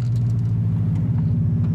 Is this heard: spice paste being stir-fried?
no